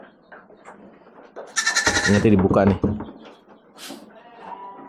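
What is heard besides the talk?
Dorper sheep bleating in pen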